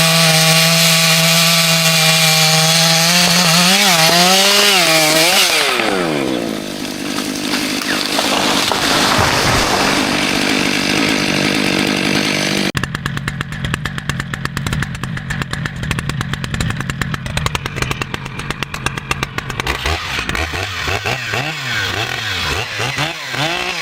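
A Stihl MS-881 Magnum chainsaw roars at high revs, then bogs and snarls as the chain bites through a tree log, running loud and close throughout with shifting engine pitch.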